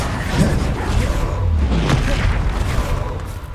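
The Bombarda blasting spell explodes in Hogwarts Legacy on PS5, a loud, dense rumbling blast with crashing debris that fills the whole stretch without pause.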